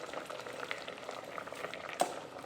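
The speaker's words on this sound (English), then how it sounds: "this is a full rough boil, and we are going to go ahead and drop these noodles in" Noodles drop into a pot of water at a full rolling boil, with a constant close bubbling and simmering texture and a brief splash-like burst near the end.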